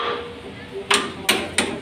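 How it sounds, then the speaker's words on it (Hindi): Three sharp metallic hammer blows, close and loud, spaced roughly evenly near the end as a bolt is driven into the axle of a Mahindra 265 tractor. "तो बोल्ट इसका ठोंक के लगेगा और लगा दिया है हमने"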